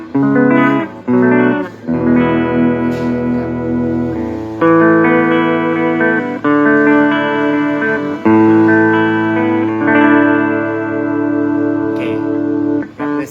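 An electric guitar with humbucker pickups plays through a Fender Champion 40 amp with its built-in reverb, a series of strummed chords and picked notes ringing out with a washy tail between phrases.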